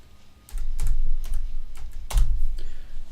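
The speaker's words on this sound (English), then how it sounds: "Now we'll just try typing in IN02." Someone types on a computer keyboard to enter a tag in PLC programming software: a close, irregular burst of crisp key clicks and thuds.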